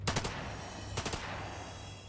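Two quick bursts of gunshots in The Lamplighters League, a turn-based strategy game, each a tight cluster of three or four sharp cracks about a second apart, moderately loud over a low steady game hum.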